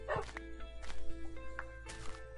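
Dogs in the video game Minecraft give several short barks and yips spread across a couple of seconds, set over a steady game background hum, with faint footstep-like taps between them.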